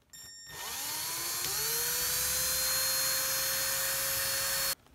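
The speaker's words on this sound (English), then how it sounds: "and now we're going to drill this side." A small high-pitched drill whines steadily while drilling into a plastic V2 trigger, spinning up quickly and holding a constant tone for several seconds before cutting off abruptly.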